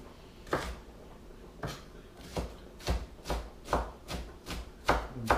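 A knife minces onions on a chopping board at home, giving a series of sharp, separate chops that come closer together and more regular toward the end, near and clear with no talking.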